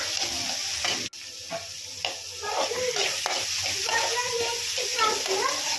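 Capsicum and tomato sprinkled with salt sizzle in a pan for egg fry, with a utensil stirring and scraping through a steady frying hiss and a sharp clack near the start.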